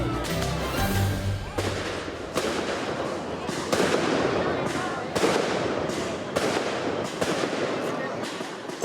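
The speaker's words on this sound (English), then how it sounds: "The highlight and most important event of San Juan is the fireworks." San Juan fireworks in Barcelona's neighborhoods: repeated sharp bursts and booming explosions in quick succession, loud and fairly close, over a constant crackling roar with faint crowd noise beneath.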